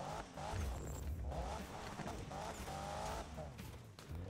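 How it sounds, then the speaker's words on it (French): A car drifting in the Need for Speed racing game, its tires squealing and the engine revving in uneven bursts, with a voice talking over the game sound. "Hey, je peux réussir un drift"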